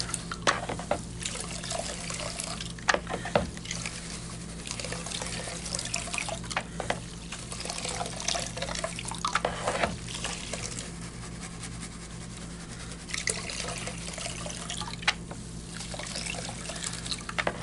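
Pay dirt being panned for gold in water, with sloshing, trickling and dripping that swells and eases in repeated bursts. It is fairly close and no one talks over it.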